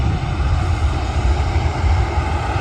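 A standard Airbus A321 jet at Manchester Airport, heard from a viewing park as a loud, steady engine roar with heavy low rumble and broad hiss, constant throughout with no talk over it.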